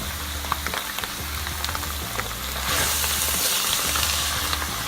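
Pumpkin stir-fried in a hot pan, a close, steady sizzle with soft stirring scrapes, growing brighter and louder partway through as the pieces are tossed.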